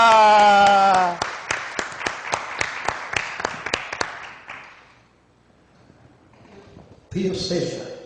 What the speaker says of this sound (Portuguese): Vamos aplaudir ele,